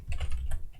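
Rapid typing on a computer keyboard while entering Arduino Leonardo keyboard-control code, with a dense run of close, clicky keystrokes and no talking.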